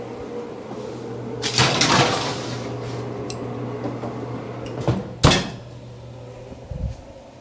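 An oven door swings shut after a tomahawk steak goes in on the rack, giving one sharp, close thud at the end of a quieter clatter, with a steady low hum in the background.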